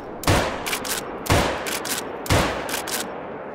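Three sharp rifle shots from a Moradi Model 1894 in theHunter: Call of the Wild, evenly spaced about a second apart, each a loud crack followed by a short lever-action clatter and echo.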